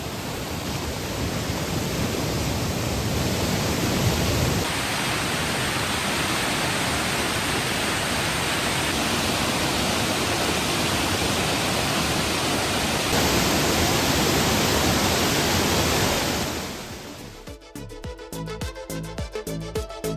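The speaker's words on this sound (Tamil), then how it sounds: "திருப்பரப்பு அருவியில் நீர் ஆர்ப்பரிக்கிறது" Thiruparappu waterfall roars after heavy rain, with surplus dam water released into the Kothai river. A loud, dense, continuous rush of falling water fills about seventeen seconds, then drops away into a different, choppier sound near the end.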